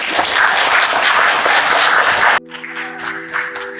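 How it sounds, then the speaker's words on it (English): A crowd's applause at an English club meet and greet, loud and dense with steady clapping that cuts off abruptly, followed by a quieter stretch with a sustained tonal hum. "So give a round of applause to Dila."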